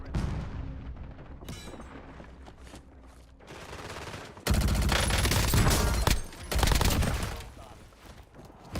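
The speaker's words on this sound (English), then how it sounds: "Who else is shooting?" Gunfire in the video game Call of Duty Warzone: bursts of rapid automatic shots, quieter at first and then loud and dense, with a brief pause before another heavy volley.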